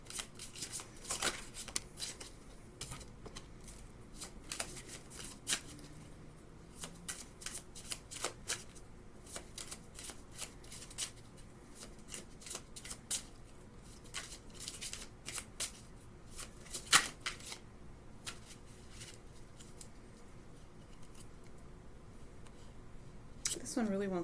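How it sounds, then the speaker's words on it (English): Tarot cards being shuffled in a rapid series of crisp riffling and slapping bursts, close and fairly quiet, with a voice speaking intermittently underneath. "Let's pull a couple more cards, especially if there's multiple people."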